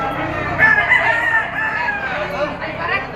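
A rooster crows loudly and close at a chicken auction market in Lipa, one long drawn-out call over a busy crowd murmur, with light clucking around it.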